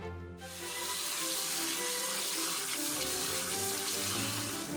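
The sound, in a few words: washing spinach in water under the tap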